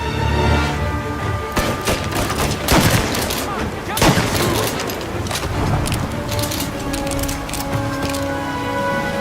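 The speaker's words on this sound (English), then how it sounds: "to create the sense that these are life and death gunfights and that every bullet counts" Gunfire in a gunfight from the Mafia remake video game, with dense, continuous shooting and several sharper loud cracks and impacts, heavy and close throughout.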